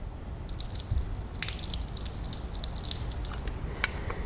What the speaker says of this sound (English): I want to go ahead and spray some hot water as well